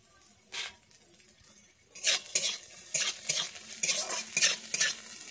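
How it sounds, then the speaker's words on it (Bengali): Capsicum frying lightly in a pan for a Bengali vegetable moong dal: near-quiet at first, then a spoon clatters and scrapes in quick, rhythmic strokes over a sizzle. "আমি এবারে ক্যাপসিকামগুলোকে দিয়ে ভেজে নিচ্ছি।"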